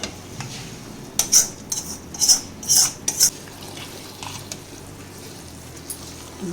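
A spoon stirs spinach dal (palakura pappu) in a pot, giving a short cluster of four or five scraping metallic clinks in the middle. Quiet, steady kitchen background surrounds them.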